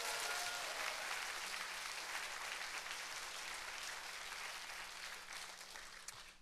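Church congregation applauding a tenor at a worship service, a faint, steady wash of clapping that slowly fades out, with no speech.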